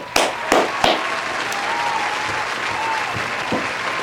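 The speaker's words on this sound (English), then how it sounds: "Clap it up, clap it up, clap it up, clap it up." Studio audience on a podcast clapping steadily, opening with a few sharp individual claps before settling into a sustained, moderately loud round of applause with no talking.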